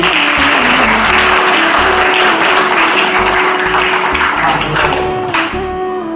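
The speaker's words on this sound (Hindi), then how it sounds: "ताली बजाओ वैष्णवी को" Students at Shri Krishna Senior Secondary School clap for a classmate: loud, dense group applause that runs steadily for several seconds and tapers slightly at the end, with a faint voice beneath it.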